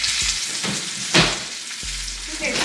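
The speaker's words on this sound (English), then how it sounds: "That's a good sizzle." Food sizzles steadily in a hot pan during home cooking, a continuous crackling hiss with brief stirring clatters and a louder burst partway through, close and alone with no talk.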